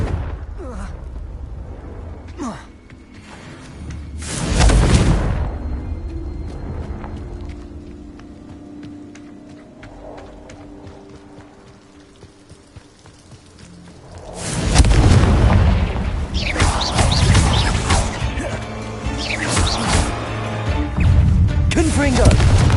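Confringo blasting spell explosions in the video game Hogwarts Legacy, two big booming blasts with long rumbling tails separated by a quieter stretch, loud and close, with speech around them.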